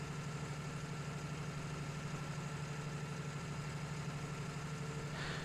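A tractor engine in Farming Simulator 19 idles steadily with a low, even hum and slight vibration, holding constant throughout without any voices.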